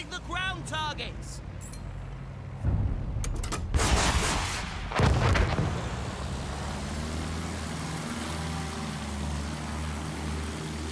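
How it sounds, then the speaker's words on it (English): Rockets fired at ground targets in the Battlefield 1 video game, with a few loud bursts and blasts in the middle amid a steady engine drone and game sound. "Try using the rockets on them."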